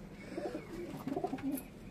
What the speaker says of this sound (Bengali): এখানে সব কবুতর রয়েছে বাড়ি।